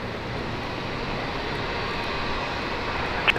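A Qatar Airways Boeing 777 arriving at Brisbane Airport from Doha, its engines making a steady, broad jet roar at constant loudness throughout.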